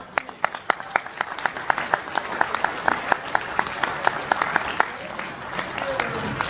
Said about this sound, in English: With a round of applause, everyone.